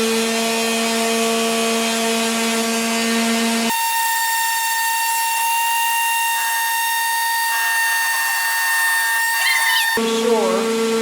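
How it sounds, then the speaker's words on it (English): A disc sander grinds against a wooden cabinet face-frame piece, a loud steady whine with strong harmonic tones running continuously for several seconds, the pitch shifting slightly as the wood is pressed in. "so then I just take my disc sander here"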